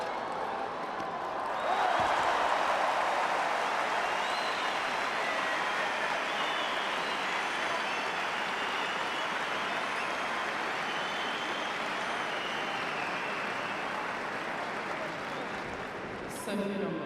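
A large tennis crowd at the WTA Finals in Istanbul bursts into sustained, dense applause and cheering that holds loud and even for many seconds before tapering near the end, with commentary talk beneath it.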